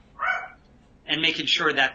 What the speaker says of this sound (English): Sorry for the dog, guys.